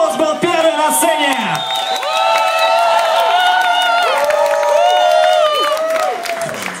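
Loud, continuous crowd cheering, whooping and clapping from an audience at a break dance competition in the Soho Rooms club, with shouting voices over the noise throughout.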